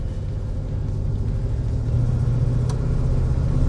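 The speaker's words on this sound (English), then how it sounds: "I like the exhaust note too. It's a nice deep rumble." A 1964 Chevrolet Impala SS rolls along on the road, its engine and exhaust giving a steady, deep low rumble that swells slightly partway through, loud and close with no talk over it.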